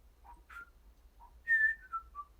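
A person whistles a few short notes of a theme tune, close and fairly quiet, with brief pauses and a longer held phrase near the end.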